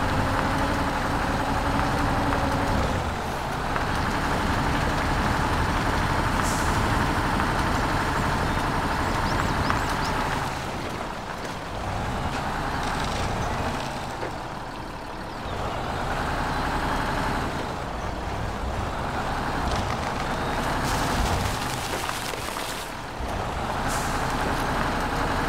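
A heavy off-road truck engine in the Mud Runner truck simulator game drones and rumbles steadily throughout, its load rising and easing in long swells with occasional hissing bursts, loud and close with no talking.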